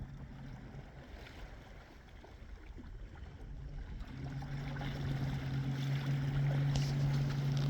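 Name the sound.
Torqeedo electric outboard motor driving a Perception kayak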